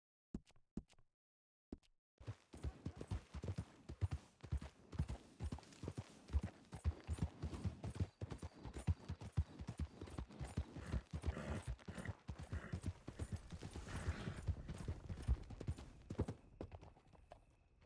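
Horse hooves clip-clop steadily in Red Dead Redemption 2, a rapid even rhythm that starts after two seconds and keeps up close and clear, with no voices.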